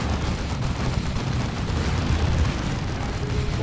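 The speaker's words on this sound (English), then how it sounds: "plasma cannon." Plasma cannon fire during a Space Marines versus Tyranids battle in Dawn of War 2, heard as a loud, dense, continuous rumble of blasts and booms with no clear pauses.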